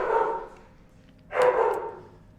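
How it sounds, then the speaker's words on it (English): A dog named Lucy barks twice, each a drawn-out bark heard at a moderate distance, separated by about a second of near quiet. "Anybody's guess what Lucy is barking at."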